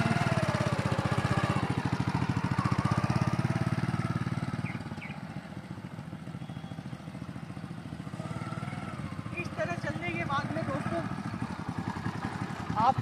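A motorcycle engine hums close by as the clutch is eased out and the throttle opened, the steady chugging note shifting partway through, with someone talking over it.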